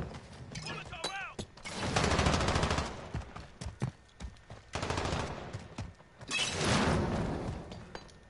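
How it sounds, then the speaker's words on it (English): Fake gunfire from decoy grenades in Call of Duty Modern Warfare 2v2, heard as loud, rapid bursts of automatic shots and crackling pops in several waves, with mechanical clatter between them. "Oh, they're decoy grenades!"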